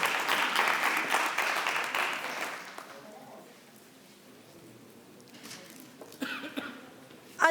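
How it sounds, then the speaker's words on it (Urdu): Audience at a University of Karachi Applied Physics department jubilee ceremony claps for a speaker, a dense burst of applause that fades over a few seconds, followed by quiet room noise and a few scattered claps and coughs. "آپ کی بھرپور تالیوں میں"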